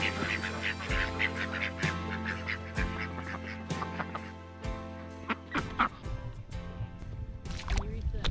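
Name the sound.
ducks quacking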